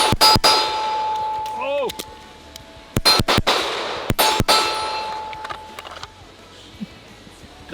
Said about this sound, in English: I'm shooting the Springfield Prodigy with these Springfield Prodigy magazines.